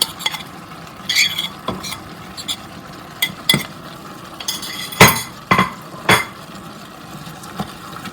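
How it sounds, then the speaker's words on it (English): A spoon stirs lentil porridge in a pot as frozen bouillon cubes go in, giving a low simmering hiss broken by repeated scrapes and clinks of utensil against metal at an uneven pace, no speech. "I will stir that in nicely."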